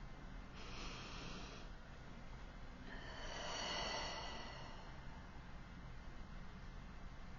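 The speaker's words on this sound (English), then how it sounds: "So take a deep breath with me." A breath is drawn in and then let out slowly in a quiet room, two soft airy swells heard close and alone, the longer exhale in the second half.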